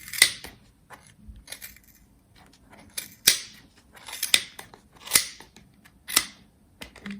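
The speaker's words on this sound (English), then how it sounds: "So these are my fabric scissors that I'm using" Fabric scissors cut through faux fur trim for a crocheted beanie, giving a series of sharp, crisp snips roughly once a second over a soft, faint rustle of fibres, close and clear with no talking.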